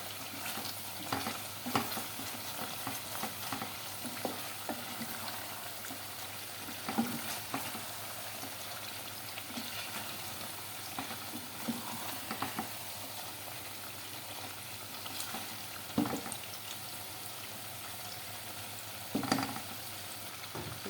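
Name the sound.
sautéing spice mixture with chillies in a pan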